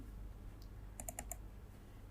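Short burst of a few crisp keystrokes on a computer keyboard while entering data in Microsoft Excel, faint and close, over a low steady hum with no talk.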